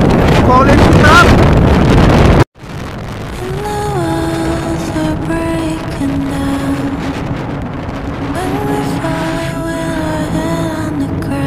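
Motorbike ride toward a college, with a loud steady engine drone and harmonic tones shifting with speed under constant wind buffeting after an abrupt cut, continuing without break.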